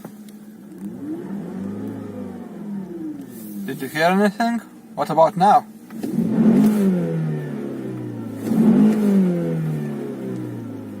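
A Volkswagen Passat W8 engine revs twice on the throttle, each time rising and then falling away, with a person talking between the revs.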